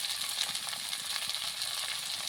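Capsicum and carrots with salt frying in a pan for an egg curry, giving a steady, close sizzle with faint stirring and no talk.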